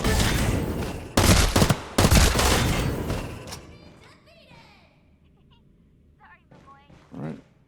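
Bursts of rapid gunfire from the shooter game Farlight 84 fill the first three and a half seconds as loud, closely spaced volleys, then fade to quiet with a voice talking.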